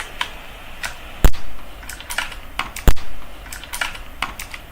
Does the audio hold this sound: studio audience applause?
no